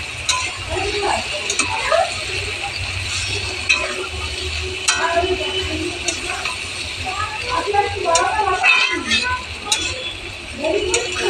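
Potatoes for aloo posto fry in a pan with a low steady sizzle while a utensil scrapes and taps against the pan at irregular intervals, with a person talking over the cooking throughout.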